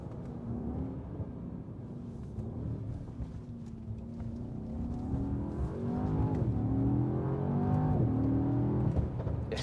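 A Mercedes-AMG E-Class engine rumbles deep and close from inside the car, its pitch sweeping up and down through gear changes and growing louder as it accelerates.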